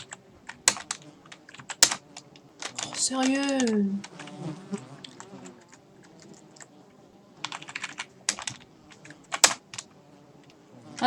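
Hard, rapid keystrokes clatter on a computer keyboard in uneven bursts, loud and close, with a brief spoken exclamation partway through.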